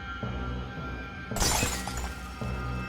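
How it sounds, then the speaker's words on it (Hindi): Glass lights shattering as a sound effect in an animated horror story: a sudden loud crash of breaking glass that bursts out of a low ambient background and rings on with scattered tinkling debris. "घर की सारी लाइट्स टूट गई"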